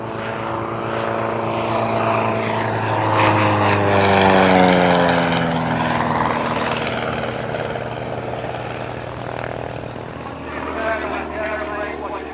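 A Bulldog propeller plane climbs at the Old Buckenham air show in Norfolk, its engine drone sweeping and shifting in pitch as it passes, loud and sustained, with a commentator talking over it.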